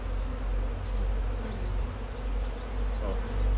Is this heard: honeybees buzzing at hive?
yes